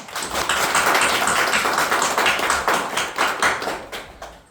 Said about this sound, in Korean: 여러분들 위해서 기도해 주시고 인사할 때 사랑과 격려의 박수 드리겠습니다.